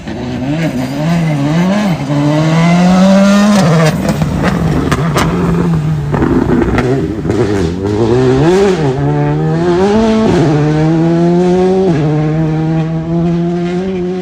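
Rally cars at the Rallye d'Audenarde race on muddy, waterlogged roads, engines revving loudly through repeated gear changes and pitch swoops, close and continuous throughout.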